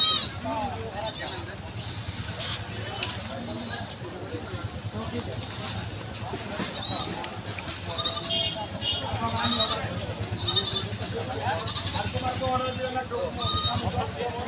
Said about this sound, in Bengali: গাজীপুর জেলার মধ্যে এটি হচ্ছে একটি বিখ্যাত হাট।